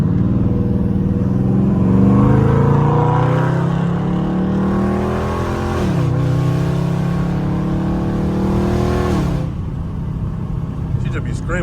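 Dodge Scat Pack accelerating hard on a highway, loud engine roar climbing in pitch through gears with a sharp shift, then easing off; a voice speaks over it.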